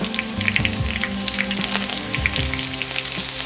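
Green chillies dropped into hot oil in a pan, giving a steady close sizzle and crackle with scattered spitting pops, no voices.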